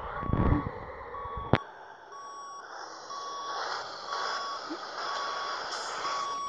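Truck reversing in the Grand Truck Simulator 2 video game, a regular electronic reversing beep repeating evenly at about one-second intervals over a low engine hum, with a sharp air-brake hiss and thump early on.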